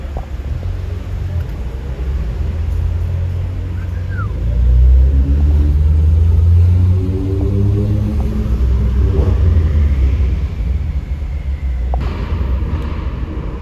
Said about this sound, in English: This is our group of cars that we're riding out with.